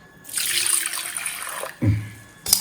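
Water is poured into a pot while cooking pearl millet rice (kambu sadam). A steady splashing stream runs for about a second and a half, followed by two short, close, gurgling splashes.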